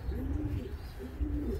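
A pigeon in a training loft coos twice, a low rolling burble close by with a short pause between the calls and no talk.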